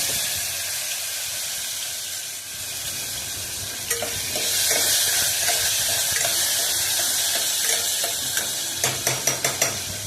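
Mustard seeds, cumin, asafoetida and tomato sizzle steadily in hot oil for a Gujarati-style tempering, with a spoon stirring and clicking against the pan, the clicks growing sharper and more rhythmic near the end. No one speaks.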